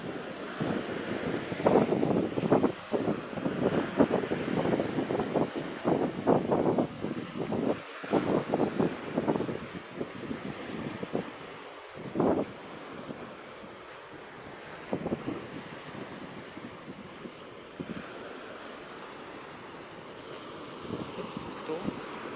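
Rough sea waves surge and crash along a rocky shore while strong wind buffets the microphone, a continuous roaring wash rising and falling, with occasional voices talking over it.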